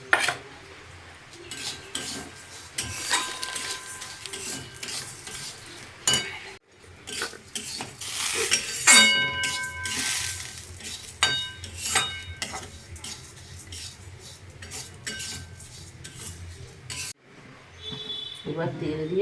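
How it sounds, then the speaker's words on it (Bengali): Moong dal frying in a little oil with gobindobhog rice while being stirred, with a quiet sizzle under frequent clinks and scrapes of a metal spoon against the pan. "একটু তেল দিয়ে ডালটাকে একটু ভেজে নিচ্ছি"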